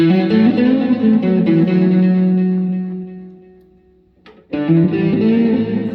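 A distorted electric guitar rings out loud through a Behringer Vtone GMX212 amp on its hot setting, a sustained chord fading away before a sharp pick scrape and another gritty chord.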